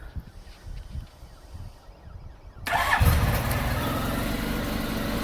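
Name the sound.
motorcycle engine starting in gear with clutch held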